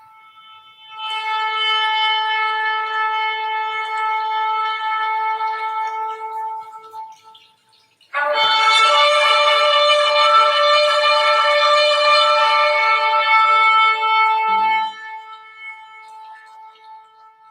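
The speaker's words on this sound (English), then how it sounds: "I love the sound of the shofar." Two long, sustained shofar blasts sound one after another, the first steady and the second louder and brighter, separated by a brief gap.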